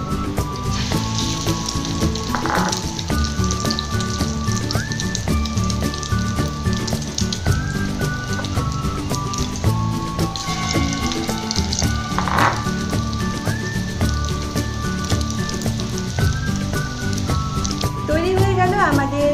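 Egg-soaked bread slices frying in a pan for egg toast, a steady loud sizzle and crackle like rain throughout, close by, with faint tonal background music running underneath.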